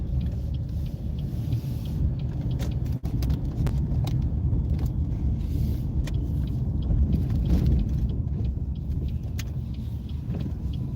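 Heard from inside, a car rolls slowly down a driveway and turns. A low, steady road rumble carries faint scattered clicks and knocks, with no talking.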